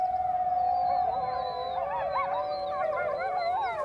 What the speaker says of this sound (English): The exact meaning of their howl is not understood